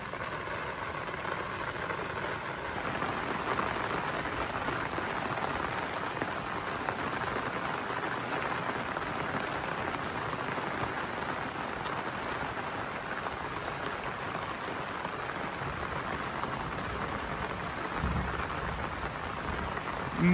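Heavy rain pours down in a sudden mountain storm with strong wind around a wooden hut, a dense, even hiss of drops that holds steady the whole time, with a low thump late on that may be distant thunder.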